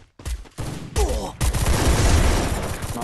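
Gunshots in the mobile battle royale game Free Fire, a sudden loud burst after a brief quiet gap followed by continued rapid firing and booming impacts, close and dominant.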